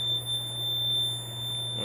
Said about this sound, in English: Alright, so we acknowledge the alarm.